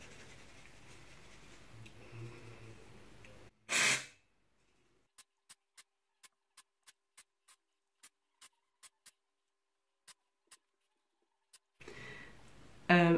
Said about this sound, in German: Aber starten wir erstmal mit dem Sprühen.